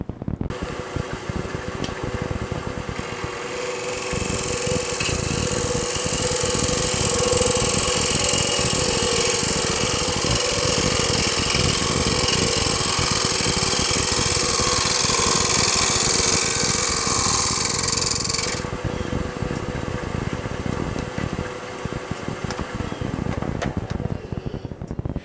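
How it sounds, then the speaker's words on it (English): A wood lathe spins a workpiece for a jewellery box while a roughing gouge cuts it, producing a loud steady whir and a dense rough shaving noise that swells through the middle and then eases back to the running machine. "You're generating these little wispies with a roughing gouge"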